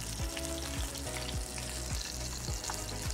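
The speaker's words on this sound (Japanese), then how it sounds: "で焦げ目をちょっとつけていくような感じで火を入れていきますよ。" Green onion searing in a hot pan, a dense steady sizzle and crackle of frying throughout, close and even, with faint rhythmic scraping or stirring underneath and no talk.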